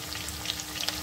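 Chopped onion sizzles in hot oil in a steady, close crackle with small pops scattered across the second.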